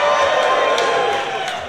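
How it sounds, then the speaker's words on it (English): Audience at a beetleweight robot combat championship cheering and whooping for a contestant, a dense burst of crowd noise that swells then slowly fades, heard up close in an indoor venue. "If you think Icebreaker, the blue robot, is the winner, give us a cheer"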